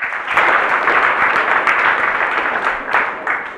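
A debate audience breaks into steady applause, a loud dense wash of many hands clapping close by that holds evenly for several seconds.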